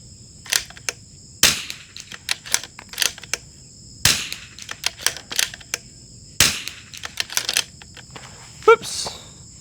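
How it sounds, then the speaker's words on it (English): Ten-round string from a rimfire rifle fitted with a CRB barrel, fired in quick succession as sharp, short cracks grouped in bursts, against a faint steady high-pitched hiss of insects outdoors. "We'll load up 10 here of this 1044, since that seemed to be one of the better performing lots from the day. And we'll shoot a 10 rounder"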